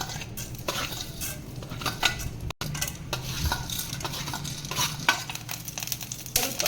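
Urad dal frying briefly in hot oil for a masala, with crackling sizzle and repeated metal spoon scrapes and clinks against the pan, close and busy, no talking.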